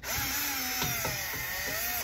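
Small cordless driver spinning out little Phillips screws that hold the water valve on the back of an LG washer, with a steady close whine that rises and falls in pitch, no talk.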